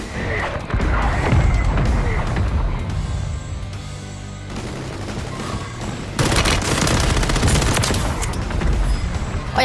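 Bursts of BP50 rifle fire in the Warzone video game, loud and rapid, with a dense volley early, a brief lull, then another heavy barrage of close shots near the end, with no speech.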